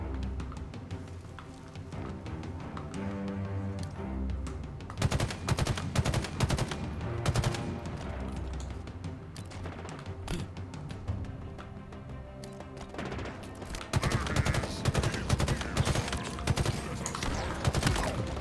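Weapon fire against elites in Halo Infinite's campaign: dense bursts of rapid gunshots and fusillades, loud and close, layered over continuous battle noise and game music.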